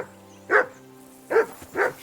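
Three loud, close barks from a dog in Kingdom Come Deliverance 2: one bark, a pause, then two more in quick succession over a faint steady hum.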